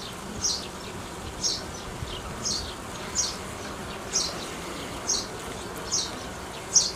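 Bees hum steadily at a strong nucleus hive while a regular string of brief, high chirp-like pulses repeats about once a second over the drone, fairly close and even in level.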